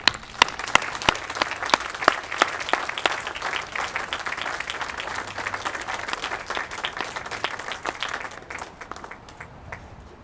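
An audience at a 2018 Memorial Day ceremony breaks into applause, starting with a few sharp, distinct claps that swell into steady, moderately distant clapping before tapering off at the end.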